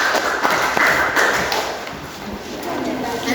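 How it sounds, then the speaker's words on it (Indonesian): A classroom group presenting in a biology lesson on fungi gets a brief round of scattered clapping from the class, a burst of taps close by, mixed with background chatter. "kasih tepuk tangan buat kelompok"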